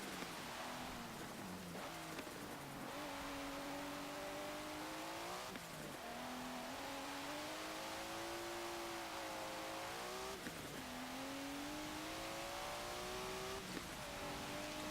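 A 1992 Mitsubishi Galant VR-4 accelerates in the racing game Forza Motorsport 7, its engine note climbing through several gears with brief drops at each upshift, loud and constant throughout with steady road and wind noise.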